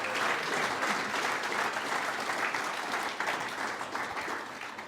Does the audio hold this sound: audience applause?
yes